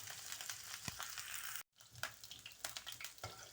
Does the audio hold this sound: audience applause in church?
no